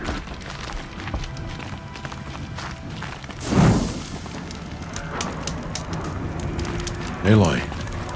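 Two heavy booming explosions in the video game Horizon Zero Dawn, one midway and one near the end, burst out over a constant low rumble of background noise.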